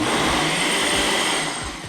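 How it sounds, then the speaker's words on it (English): Blender whirring through Greek yogurt, honey and custard for a dessert, a loud steady motor drone that holds nearly constant and eases slightly toward the end, with no talking. "I cover up the blender and then I'll blend this up."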